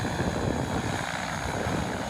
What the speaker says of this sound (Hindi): ड्रोन से बॉडी को एयरलिफ्ट किया जा रहा है।